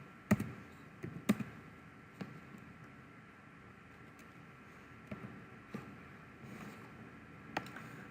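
Computer keyboard typing, a few sharp key clicks scattered irregularly over a low steady background hiss, quiet and close with no talking.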